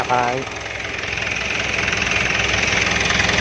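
A car engine keeps running steadily after the ignition key is turned off, a loud, even idle with a faint rhythmic knock that continues throughout, briefly joined by a voice at the start.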